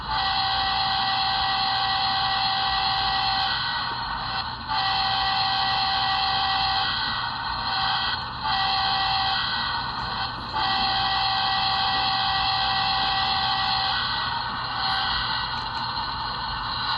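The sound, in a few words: HO scale KCS 4859 model locomotive horn sound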